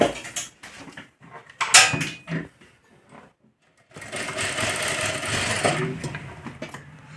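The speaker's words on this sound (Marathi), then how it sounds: "टक्सला सुद्धा आपल्याला डबल टिप मारून घ्यायची आहे" Tucks on a katori-style blouse stitched on a sewing machine: brief stop-start bursts of motor whir and clicks, then a sustained, loud, close run of rapid stitching for the last few seconds, with no talking.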